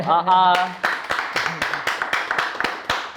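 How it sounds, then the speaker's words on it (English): A voice sounds briefly at the start, then a small audience at an interview gives a thin round of about ten sharp, irregular hand claps, close and sparse. "Guys, clap now."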